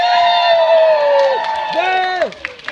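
An audience at a Texas Renaissance Festival stage show cheers and whoops loudly, with rising and falling shouted voices that fill the clip before fading at the end.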